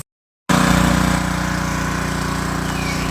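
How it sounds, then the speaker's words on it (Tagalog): A motor water pump drawing irrigation water up for a pomelo orchard starts abruptly after brief silence, then runs loud and close with a steady, rapidly pulsing engine chug. "set up na natin itong ating motor mga bossing no, para paakyatin yung tubig galing sa ilalim ano"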